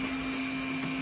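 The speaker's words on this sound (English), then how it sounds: "I've left the hoover on" A steady, loud droning whine with a strong constant hum, like a vacuum cleaner running nearby without pause.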